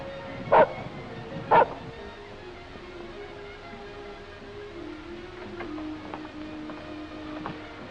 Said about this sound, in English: Hey, Jane, there's a dog out here in the back